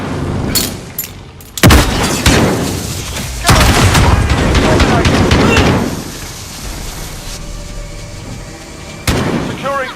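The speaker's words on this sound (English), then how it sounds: "They're shooting at me!" Gunfire and explosions crackle through a video game battle over a courtyard objective, with dense bursts of shots and booms that swell and fade across the clip while voices call out over the shooting.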